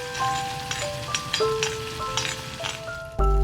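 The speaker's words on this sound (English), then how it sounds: "Once you see the oil has separated, then add in the spice powder and let it cook for 2 to 3 minutes." Spice powder cooking in hot oil in a pan, a steady close sizzle and fry with scattered stirring scrapes throughout, cut short by a sudden loud thump near the end.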